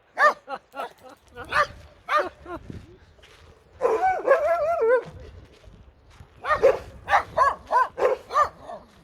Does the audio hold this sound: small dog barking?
yes